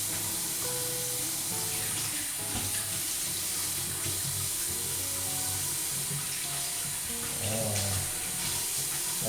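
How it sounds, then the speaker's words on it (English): Warm water runs steadily from a bathroom tap into a sink, a close, continuous splashing hiss with faint clatters, heard alone without talk. "hopefully this water noise doesn't cause me distraction"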